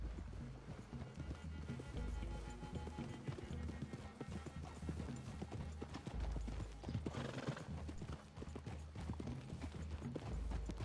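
Horses in a Western video game walk with steady hoof clip-clop through a wooded clearing and whinny, the hooves close and continuous throughout.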